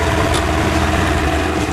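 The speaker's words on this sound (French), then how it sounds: "Un Massey Ferguson 6290 emmène une arracheuse Armour Salmon Beaver à 2 rangs." A Massey Ferguson 6290 tractor pulls a two-row Armour Salmon Beaver beet harvester across a field in difficult ground conditions, its engine a loud, steady low drone throughout with no voices.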